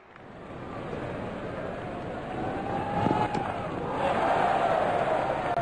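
A cricket stadium crowd at an IPL 2024 match between Chennai and Punjab roars loudly and continuously, the cheering swelling higher toward the end with a few sharp shouts rising out of the din.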